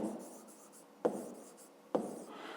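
A pen writes numbers on paper during a fifth-grade math exercise, giving faint, quiet scratching strokes punctuated by two sharper taps of the tip against the page.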